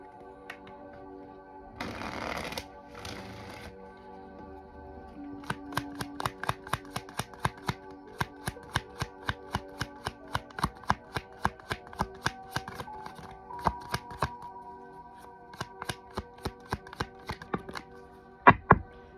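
A deck of cards is riffled in a quick burst, then flicked in a long run of rapid, crisp clicks over soft background music.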